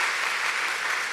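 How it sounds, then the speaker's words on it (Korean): A church congregation at an afternoon service claps together, a brief, even wash of applause from many hands in a large room. "이때 박수 한번 쳐주셔야 되지 않겠습니까?"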